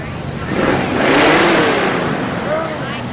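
An American muscle car revs at a Fourth of July parade in Chautauqua County, its engine swelling into a loud, throaty roar before easing back, with crowd noise and voices around it.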